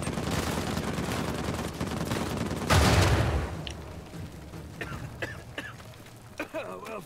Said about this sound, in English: for once, I appreciate Avery's exploding mummies